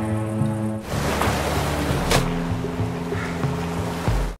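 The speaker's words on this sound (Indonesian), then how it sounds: "bersantai sejenak di tepian pantai" Surf rolls and washes along a beach shoreline, a loud, continuous broadband rush with a low tonal hum in the opening second.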